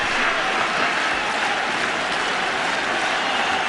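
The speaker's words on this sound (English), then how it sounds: "Yankee fans up and applauding for a strikeout for Rivera" At old Yankee Stadium during the 2008 MLB All-Star Game, the crowd stands and applauds a strikeout by Rivera, a dense, loud, continuous wash of clapping and cheering.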